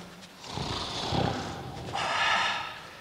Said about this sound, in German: Es war ein tiefes, unheimliches Schnarchen, das durch das Schloss dröhnte.